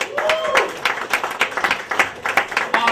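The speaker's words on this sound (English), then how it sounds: "Put your hands together for Keith." Comedy club audience clapping for comedian Keith, dense steady applause with crowd noise and a brief voice, close and lively.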